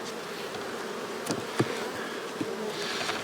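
Honey bees buzz steadily in an open hive, a dense continuous drone close by with a few brief louder passes, no voices present.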